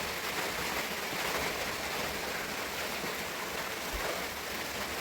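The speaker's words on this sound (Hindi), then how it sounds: "लकीली हमको बारिश भी मिल गई है, तो पहाड़ों की बारिश का अलग ही मज़ा है।" Steady rain falling in the mountains at the Santoshi Devi temple steps in Lansdowne, a soft even hiss of drops on surfaces with no talk.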